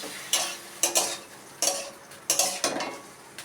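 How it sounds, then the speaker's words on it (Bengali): Mustard and poppy seed paste being sautéed and stirred in a pan with tomato, giving a series of about six distinct scraping stirs over a soft sizzle, fairly close and with no talk. "আমি সর্ষে আর পোস্ত বেটে নিয়ে এসেছি এবার আমি এটা দিয়ে দেবো একটু কষিয়ে নিয়ে"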